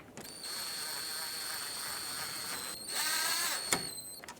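A ratchet snugs up bolts on a 2012–2022 Ford Focus during a CV axle replacement, giving a steady whirring run of clicks that stops briefly, then resumes with a louder burst and a sharp final click.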